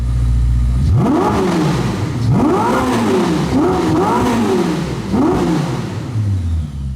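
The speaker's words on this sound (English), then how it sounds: "Even though this is a hybrid, it is still a massively powerful V8, and it sounds pretty good. Take a listen to the exhaust note in this car." A Ferrari SF90 hybrid V8 supercar revs its engine in five or six sharp blips. The exhaust note climbs and falls each time, loud and close, over a steady idle with no talking.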